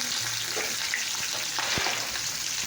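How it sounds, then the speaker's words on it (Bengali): Chopped onion and green chilli frying in hot oil give a steady, close crackling sizzle throughout, with a brief low knock of a utensil partway through; no one speaks. "তো দেখো এখানে পেঁয়াজ লঙ্কা কুচনো তেল হয়ে দিয়ে দিলাম"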